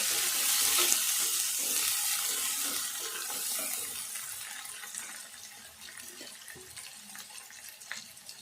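Tamarind water is poured into a simmering egg gravy in a pan, giving a soft, continuous splashing and sizzling hiss that slowly fades, close by and without speech.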